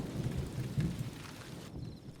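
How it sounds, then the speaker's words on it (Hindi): Steady rain pours outside a house, a dense broadband hiss with a low rumble, heard from indoors for about two seconds before briefly thinning near the end. "बारिश बाहर हो रही है"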